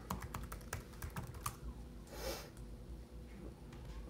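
Password being typed on a Lenovo T470 laptop keyboard: a quick run of close, crisp key clicks, then a soft breath and a few more scattered taps.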